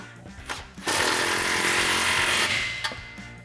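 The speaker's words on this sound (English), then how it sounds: "now you can tighten down this clamp." A power tool, most likely an impact wrench, tightens an exhaust clamp on a Ford F150 in one loud, sustained buzzing burst of about a second and a half. Quieter clicks and taps come before and after it.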